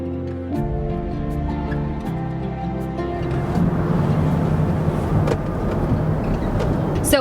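A car driving on the road with steady engine and road rumble throughout, tonal drone early on giving way to broader tire and wind noise in the second half.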